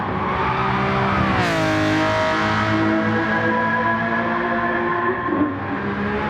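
Lamborghini Countach 500S V12 race car, a Walter Wolf Special, accelerating hard on a circuit; a loud, continuous engine roar climbs steadily in pitch through the gears, close by and without any talk.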